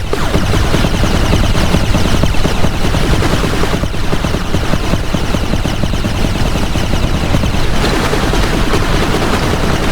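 Battle in the real-time strategy game 9-Bit Armies: dense, continuous rapid gunfire and machine-gun bursts blend with rumbling explosions into a loud, unbroken wall of combat noise with no pauses.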